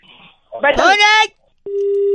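A burst of harmonic, voice-like sound, then a pause, followed by a steady continuous telephone disconnect tone that keeps sounding to the end after a call is cut.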